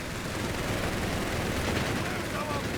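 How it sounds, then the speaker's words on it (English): Mines exploding amid a Company of Heroes 3 battle, heard as a continuous dense din of blasts and gunfire with no single distinct burst, rumbling at a steady level throughout. "We got mines exploding somewhere."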